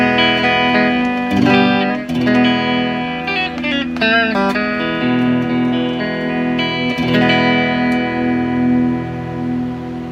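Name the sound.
RE/F-TECH ST54-95LS Stratocaster-style electric guitar, rear pickup tone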